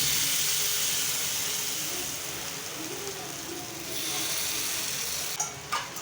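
Jowar flour batter sizzling in a hot appe pan gives a loud, continuous close hiss that eases slightly partway through, with a couple of brief clinks near the end and no talking.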